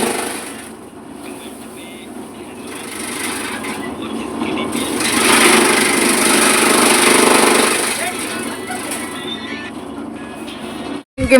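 A fodder cutting machine chops green fodder for cattle, a steady loud mechanical whirring drone that swells in the middle and runs continuously, with no talk over it.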